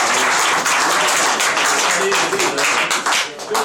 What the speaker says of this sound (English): Give him a nice clap